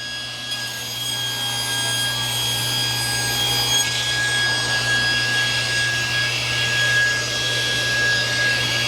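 Table saw cutting wood for a sacrificial fence: a constant loud motor whine with a steady hum, and the pitch shifts partway through as the blade bites into the board.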